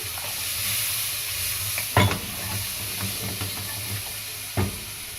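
Something sizzles loudly as it is stir-fried in a pan before rice goes in, a close, constant hiss with a couple of sharp scraping clanks from stirring.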